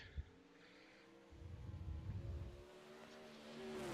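A dirt-track race car, the number 89, makes a hot lap at Lanier Speedway in Braselton, Georgia, its engine rising from faint and distant to a louder rasping pass, with a short revving surge in between.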